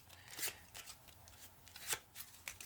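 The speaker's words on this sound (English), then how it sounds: "Make sure the cards are nice and shuffled up in there." Playing cards shuffled close up in a quiet ASMR card-magic setting, a few soft riffling bursts and crisp flicks spread across the moment with brief pauses, no talking.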